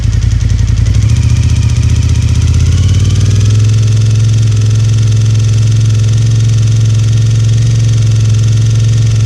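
A Japanese V-twin superbike engine idles close by, a loud, steady low rumble that rises slightly in pitch partway through and then holds even.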